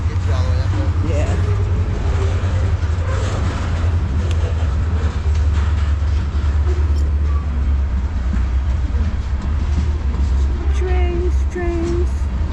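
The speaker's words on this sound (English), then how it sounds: "Trains." Trains passing on a spring trip between Birmingham, Alabama and Chattanooga, heard as a steady, loud low rumble with rail noise throughout, while people talk intermittently over it.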